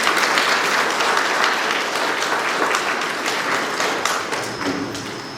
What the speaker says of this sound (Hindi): हम ताली बजाकर स्वामी जी का स्वागत करेंगे।